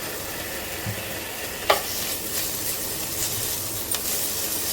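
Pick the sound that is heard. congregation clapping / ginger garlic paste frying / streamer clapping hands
ginger garlic paste frying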